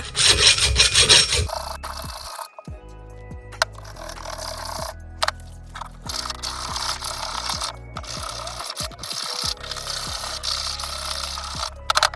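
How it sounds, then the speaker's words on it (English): Metal file rasping inside an axe head to strip paint and buildup, loud repeated rubbing strokes at first, then shorter scrapes and taps with pauses between them, no talk. "I'm just going to file away in there a little bit just to remove any of the paint and other build up that's in there"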